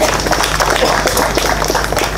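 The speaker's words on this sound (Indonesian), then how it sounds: "Maka saya minta tepuk tangan untuk Self Learning Institute" Audience applause for an institute honored at a community event in Purwakarta, a steady dense wash of many hands clapping close and loud throughout, with no voice over it.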